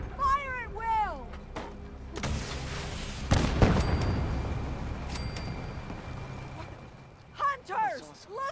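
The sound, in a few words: gunfire from the video game Fallout 4 Far Harbor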